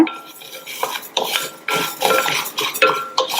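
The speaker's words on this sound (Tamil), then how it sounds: "நிதானமான தீயில வச்சு இந்த ஜவ்வரிசி நல்லா பொரியிற அளவுக்கு வறுத்துக்கங்க" A metal spoon scrapes and stirs sago pearls roasting dry in a pan over low heat, with irregular clinks and rattles close by.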